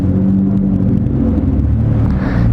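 A Nissan Altima drives along steadily, its low engine rumble and road noise continuous and loud throughout with no talking.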